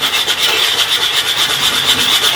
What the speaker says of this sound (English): So keep sanding that down until it's nice and level.